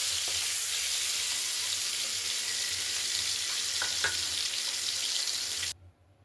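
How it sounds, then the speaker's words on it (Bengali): Eggs fry in hot oil until browned for a Bengali egg and cauliflower curry, with a loud, steady, close sizzle and faint stirring scrapes that cut off abruptly near the end. "ডিমটাকে এইভাবে লাল লাল করে ভেজে তুলে নিলাম"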